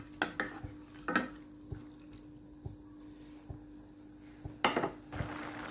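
A cook pushes banana blossom down into a pot of simmering coconut soup, giving scattered soft knocks and clinks of utensil against the pot between quiet stretches.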